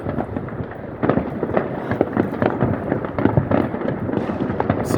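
Fireworks burst continuously in a dense crackling barrage, with sharp pops and booms piling on top of one another at moderate distance and no break.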